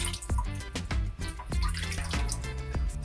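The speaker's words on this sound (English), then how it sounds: "You rinse it until clean," Pork back ribs are rinsed under running tap water, giving close splashing and dripping with irregular wet knocks as the meat is moved and rubbed.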